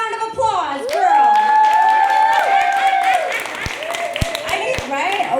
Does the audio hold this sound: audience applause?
yes